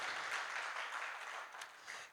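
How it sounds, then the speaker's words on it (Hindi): A crowd at a Jain temple festival ceremony gives a short, faint round of applause while a guest is honoured. The clapping is soft and somewhat distant and lasts about two seconds. "तालियां बजा दीजिए"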